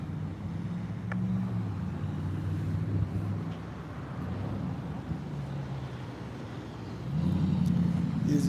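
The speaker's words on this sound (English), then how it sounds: "Engine sounds over there." A car engine hums at a distance outdoors as a low, steady rumble with gentle swells, growing somewhat louder toward the end as a vehicle seems to draw closer.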